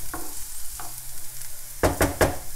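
Risotto being stirred in a pan, with a few soft scraping strokes early on, then louder, quick spoon-against-pan scrapes near the end over a low steady background.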